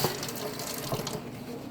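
A faucet runs in a steady, rushing stream of water during hand washing, then the flow cuts off and fades to quiet near the end.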